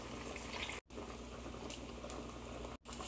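Egg boiling in a pot of water, a faint continuous bubbling and rolling simmer heard close up, with two brief silent gaps.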